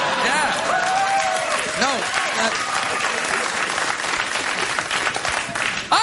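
Studio audience applause on a late-night talk show, a loud, steady wash of clapping that fills the whole stretch, with a voice talking underneath it.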